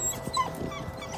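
Puppies whimpering and yipping on a farm during morning chores, a short close burst of thin high whines over low background noise.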